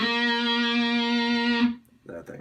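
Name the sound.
electric guitar playing a chorus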